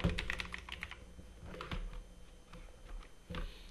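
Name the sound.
pressing computer keyboard shortcut keys in Microsoft Word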